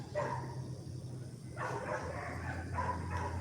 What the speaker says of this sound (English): them dogs need to shut up